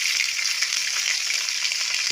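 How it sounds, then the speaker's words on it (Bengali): Capsicum sizzling in a hot pan with green chillies for cabbage manchurian, a steady, close, crackling fry with no voices. "একটু ক্যাপসিকামগুলো ভাজা ভাজা করে নেবো।"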